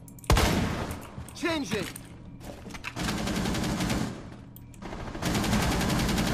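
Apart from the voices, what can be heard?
gunfire in the video game Rainbow Six Siege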